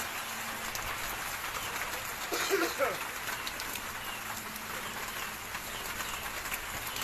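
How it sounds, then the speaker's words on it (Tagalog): Heavy rain pours down outdoors near a small hut, a dense continuous hiss of falling water with a brief louder patch partway through and no voices. "Inabot ako ng malakas ang ulan."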